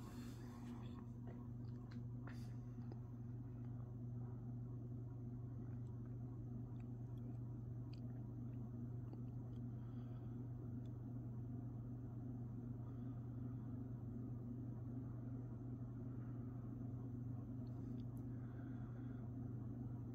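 A Hallmark Snugger 52-inch ceiling fan runs on high speed with a steady low hum and a faint even whoosh, unbroken and quiet for the whole stretch.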